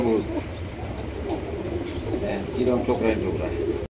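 Yellow Lahori pigeons coo in low, soft bursts at close range, mixed with a few higher chirps and general background noise before an abrupt cut at the end.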